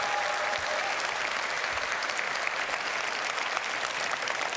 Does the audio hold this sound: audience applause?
yes